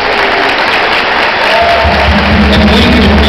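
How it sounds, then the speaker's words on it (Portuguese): Loud, sustained clapping from an audience after a school choir from Escola FISC performs at the Miss Nikkey 2009 event. The applause is broad and continuous, with some crowd noise and a low tonal sound entering partway through. "Vamos aplaudir, eles merecem, vamos aplaudir."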